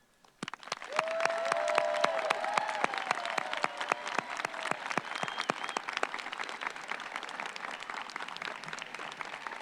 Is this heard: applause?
yes